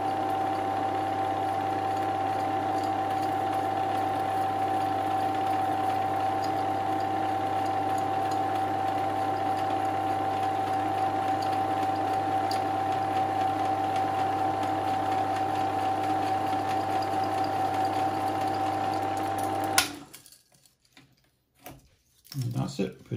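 Bell Howell 256 EX film projector motor rewinding a reel, a steady close mechanical hum with a sustained tone that runs unbroken for about twenty seconds, then cuts off abruptly, leaving quiet handling noises.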